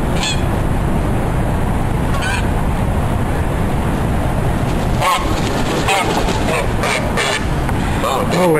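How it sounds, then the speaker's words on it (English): A white-faced, orange-footed Canada goose hybrid gives a series of repeated honks in the second half, set against constant loud, rushing outdoor noise. "This is a white-faced orange feet Canada goose hybrid of some kind."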